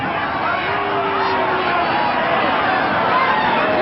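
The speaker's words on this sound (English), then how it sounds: "Crowd starting to try and appeal to the referee" Rugby league crowd at a 1989 South Sydney Rabbitohs versus Balmain Tigers match roars in appeal to the referee, a dense, sustained stadium hubbub with a commentator talking over it.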